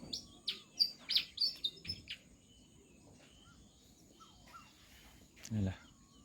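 Birds chirp and tweet in the early morning outdoors, a quick cluster of bright calls followed by scattered quieter notes, with insects faint underneath and a brief low voice toward the end.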